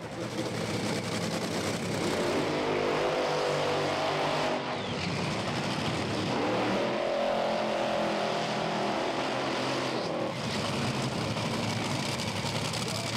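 Drag racing cars launch at Santa Pod Raceway during an FIA main event, loud engines roaring continuously with surging throttle changes over about thirteen seconds, crowd-level din throughout.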